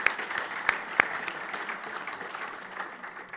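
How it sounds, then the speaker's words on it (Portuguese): An audience at a coaches' congress session claps in steady applause, a dense patter of hands with a few sharper claps, moderately close. "eu pedia uma salva de palmas para vocês"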